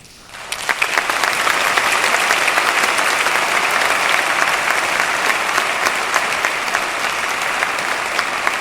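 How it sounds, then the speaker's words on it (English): A large audience of high school students and delegates at a tsunami awareness summit in Kuroshio, Japan, breaks into steady, dense applause that starts suddenly and continues evenly at close range. "If you agree, I ask for your big applause."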